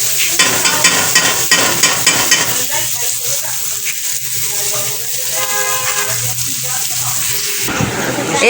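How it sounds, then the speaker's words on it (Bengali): Close-up sizzling of onions, tomatoes and chillies frying in a pan, with occasional stirring scrapes and sharp pops as the chillies burst, steady throughout; a voice speaks briefly partway through. "পেঁয়াজটা টমেটোটা লঙ্কাটা ভাজছি লঙ্কা ফাটছে বাবা"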